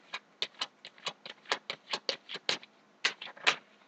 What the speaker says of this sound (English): So I'm just going to give these one last shuffle.